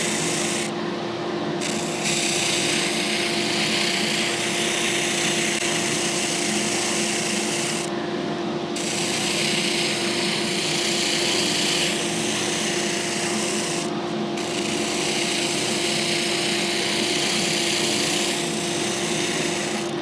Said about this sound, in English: show you something else about the spindle sander.